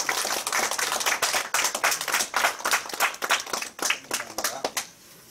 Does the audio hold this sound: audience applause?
yes